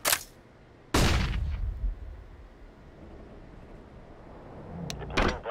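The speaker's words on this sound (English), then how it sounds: "Throw a flashbang." A flashbang grenade in a tactical shooter game goes off as a loud sharp bang with a short decaying rumble. A faint earlier burst comes before it and quicker metallic clicks follow near the end, with no talking.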